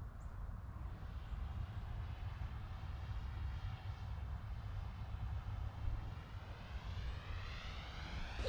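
Engine drone of an E-Flite Timber X RC airplane coming in to land with flaps down, a faint, steady whir heard from a distance over low wind rumble, rising slightly toward the end.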